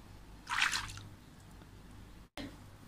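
Shampoo stirred by hand into a basin of warm water, heard as one short, close splash and swirl that fades to quiet dripping, then a brief cut in the sound.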